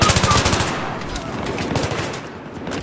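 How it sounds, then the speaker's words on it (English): Rapid AEK assault rifle bursts in Battlefield 3, a fast rhythmic stream of loud, close shots that fades into scattered distant gunfire and battlefield noise. "You guys want to know my favorite gun in all gaming history? It has to be this AEK."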